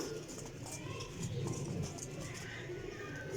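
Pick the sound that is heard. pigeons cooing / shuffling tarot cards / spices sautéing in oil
pigeons cooing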